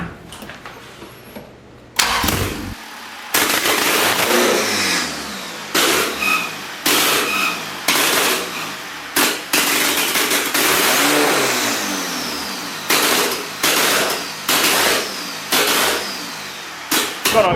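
A boosted Honda Accord F23 engine cranks and fires up, then revs repeatedly in loud, close bursts with brief dips between each blip, no talking over it.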